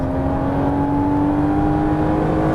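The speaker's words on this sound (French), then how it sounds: "Allez, on peut réaccélérer, on est à fond." A Porsche Cayman S at full throttle on the Dreux circuit gives a steady, loud engine drone with a sustained tonal whine, heard from inside the car throughout.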